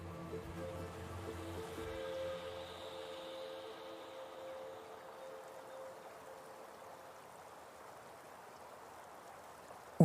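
Steady flowing water of the Tarn river in its gorges murmurs continuously, a soft broadband rush with a low hum underneath, fairly distant and even throughout.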